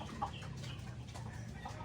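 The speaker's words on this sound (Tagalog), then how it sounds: "Ito yung isang kubo-kubo dito na kulungan ng mga manok." Chickens in a small coop give soft, faint clucks and murmurs amid a dull steady background, with no talking.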